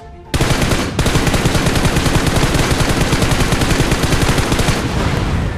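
Sustained rapid automatic gunfire pours into a Levitron vehicle in PUBG Mobile's Mecha Fusion mode, loud and close, a dense continuous burst with one short break near the start.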